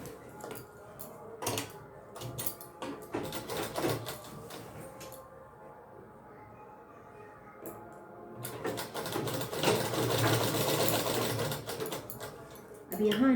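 A sewing machine stitches the open part of a lehenga in short bursts, its needle whirring on and off between pauses, with someone talking over parts of it.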